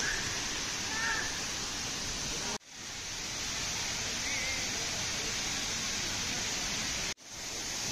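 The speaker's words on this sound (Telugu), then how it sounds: "పెద్ద వాటర్ఫాల్" A large waterfall at Ramoji Film City in Hyderabad gives a steady, dense roar of rushing water. The roar continues at an even level, broken only by two brief dropouts.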